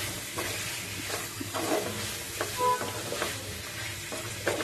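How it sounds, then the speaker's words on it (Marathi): Chicken being stirred in a pan with ginger-garlic paste and salt for a tawa chicken fry, a steady sizzle with repeated scraping strokes of the spoon at close range, no voices. "लसणाची पेस्ट टाकल्यावरती आपण आधी याला छान मिक्स करून घेऊया"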